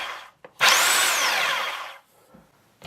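A Vevor SDS rotary hammer drill whirs up loudly, runs for about a second and a half with a falling whine, then stops; faint clicks before and after.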